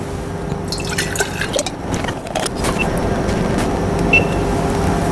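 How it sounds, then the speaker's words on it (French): Water running into a pycnometer in a soil lab test measuring solid particle density: a steady, close pouring and gurgling with a few drips over a constant background hum. "À l'étape 3, nous allons remplir le pycnomètre."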